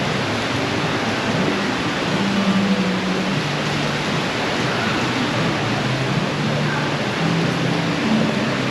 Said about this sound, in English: It is definitely raining season in Thailand still.